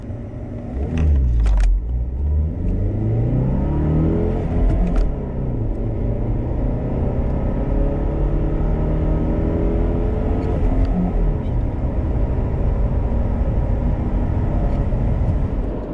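A 2003-era Saab 9-3 accelerating hard, the engine note climbing through several gears with rising and dropping pitch between shifts, loud and close from inside the cabin, with a steady road rumble underneath.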